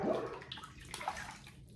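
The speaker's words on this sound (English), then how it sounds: "So when I rinse this bowl out" Water splashing and gurgling while a shaving soap lather bowl is rinsed out under running water, a short, soft and close wash sound with no talking.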